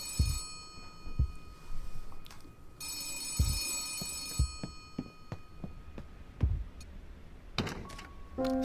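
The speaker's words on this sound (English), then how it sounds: "Suddenly the phone on Stahl's desk starts ringing." Desk telephone ringing in the video game Gerda: A Flame in Winter, bright repeated ring bursts mixed with footstep-like thuds and other game sounds, no talking.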